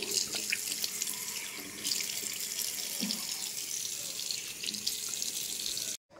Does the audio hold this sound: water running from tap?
yes